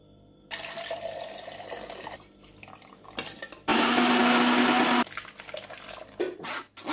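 Blender whirring through boiled beetroot and amla (Indian gooseberry) with mint and coriander leaves for juice, running in loud bursts with a steady, strongest stretch in the middle and brief pauses between pulses.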